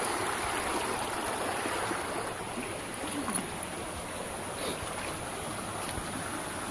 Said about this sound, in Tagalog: Ito yung agos oh.